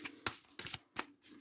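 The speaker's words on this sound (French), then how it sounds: "Je vais aussi tirer 9 cartes et on va voir ce qu'on nous dit l'oracle des miroirs." Oracle cards being shuffled and drawn: a few quick, soft papery riffles and flicks, close and faint, in short bursts.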